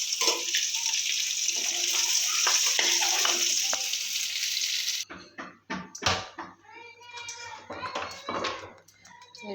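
Fish sizzling in a pan, fried only lightly before going into a curry: a loud, steady frying hiss for about five seconds that cuts off abruptly, followed by kitchen clatter and voices talking.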